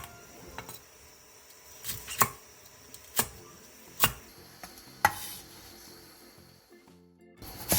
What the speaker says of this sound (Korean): 대파 2분의 1개를 길게 반으로 갈라 3cm 정도 길이로 잘라주세요.